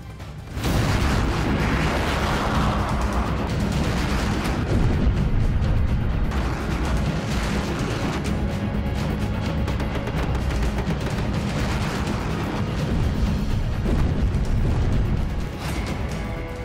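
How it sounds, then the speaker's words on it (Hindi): A big explosion at a building erupts into a long, deep rumbling roar that persists loudly, like a blast followed by roaring fire and debris. "बड़ा सा धमाका और इमारत में आग लग गई"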